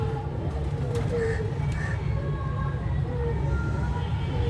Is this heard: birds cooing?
yes